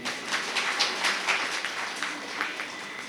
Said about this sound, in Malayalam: അദ്ദേഹത്തിന് പിശുക്കില്ലാത്ത ഒരു കയ്യടി കൊടുക്കും